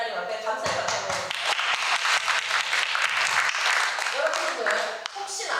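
Thanksgiving applause from a Korean church congregation during an evangelism festival sermon, a dense, steady wash of many hands clapping throughout, near and loud, with some voices and cheers mixed in.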